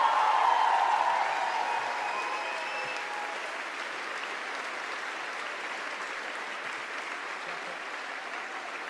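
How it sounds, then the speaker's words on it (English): A concert audience at a live pop festival in Germany applauds a keyboard player, a dense wash of clapping and crowd noise that starts loud and settles to a steady, slightly softer roar for the full stretch. "Please give a big round of applause to my good friend Daniel Bingham"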